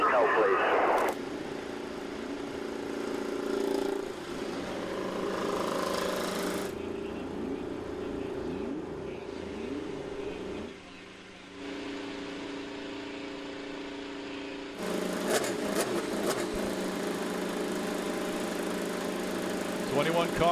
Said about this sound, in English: Cars coming to life